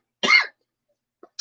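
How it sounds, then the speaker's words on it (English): One short, close cough from a person, followed by silence and a faint breathy sound at the end. "don't know why these coughs are starting to roll in."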